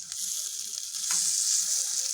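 Fish roe pakoras fry in hot oil with a close, continuous bright sizzle that grows slightly louder partway through, with soft clicks from stirring and no voices.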